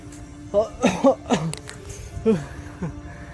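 A runner coughs during an interval run, a few short raspy coughs mixed with breathy speech and panting, close to the microphone.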